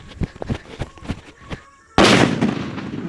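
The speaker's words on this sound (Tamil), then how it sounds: "அது சிவகாசி பேப்பர் பொம்மையும் போட்டு பார்த்துருவோம்" Several scattered sharp pops crackle before a Sivakasi paper firecracker bursts with a sudden, loud, close bang that rolls on and slowly decays.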